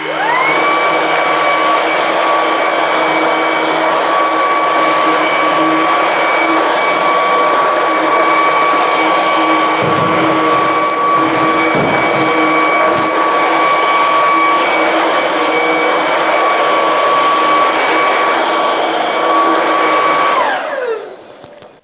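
A Ryobi 18V ONE+ HP brushless stick vacuum runs on high mode with its rollers on, cleaning towels. It gives a loud, steady, close motor whine with airy suction for about twenty seconds, then winds down abruptly at the end.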